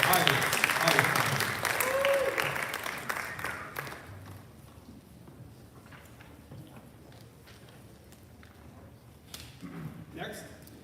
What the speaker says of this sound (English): A round of applause for Iris.